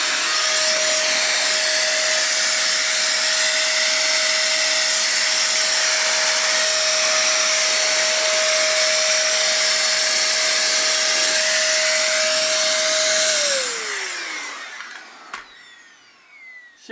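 A Meco electric duster blows dust out of an old computer, a loud steady motor whine and rushing air that holds for about thirteen seconds, then spins down and cuts off, leaving a few faint knocks.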